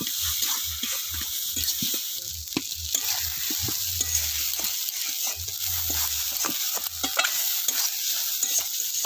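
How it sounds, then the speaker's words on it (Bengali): A green pea kachori filling is stirred in a kadai over the flame, with a steady run of scraping strokes and a soft sizzle underneath, close and moderately loud with no talking. "এইভাবে কিছুক্ষণ এটাকে আমি পুরটা রেডি করে নেবো এইভাবে নেড়ে চেড়ে"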